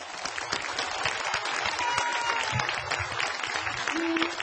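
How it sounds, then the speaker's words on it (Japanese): A large audience at a Japanese Communist Party rally in the Tokyo metropolitan area gives dense, sustained applause. The sound is a steady wash of many hands clapping together, with only faint voices. "皆さんもう一度大きな拍手をお願いいたします"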